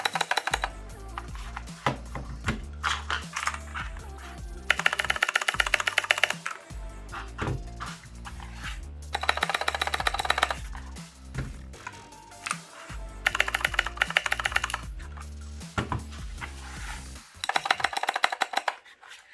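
Clicky keystrokes on a Kemove Shadow 61 mechanical keyboard, typed in quick bursts with short pauses between runs, close and fairly loud with no talking.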